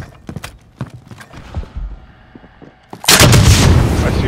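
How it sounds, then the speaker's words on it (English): Gunfire and artillery from the Call of Duty: Modern Warfare video game: sharp scattered shots and booms, then a loud, sustained roar of heavy fire and explosions that fills the end. "I see launcher rounds. Receiving hostile fire."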